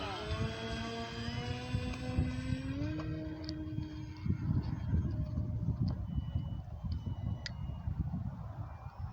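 Electric motor of an E-flite Maule M7 RC airplane during bush landing practice: a steady high whine that drops in pitch after a few seconds, then a rough, fluttering outdoor rumble as the plane moves off.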